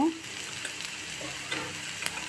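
Onion frying in a pan for a sidol and sweet pumpkin dish gives a soft, steady sizzle with light stirring ticks and a brief clink near the end, fairly quiet and unbroken.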